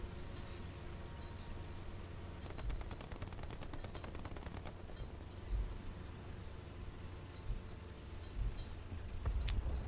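Rapid machine-gun bursts in War Thunder rattle out in dense, evenly spaced strings, moderately loud with a few heavier thuds, with no talking.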